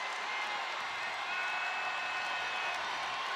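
A basketball crowd at the KFC Yum Center in Louisville roars and cheers steadily during a tied Louisville–Kentucky game, a dense, sustained wash of voices filling the arena for the whole stretch.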